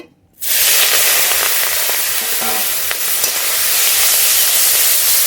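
Fish dropped into hot mustard oil in a kadai bursts into a loud, steady sizzle right after a moment of quiet and keeps crackling close up without pause.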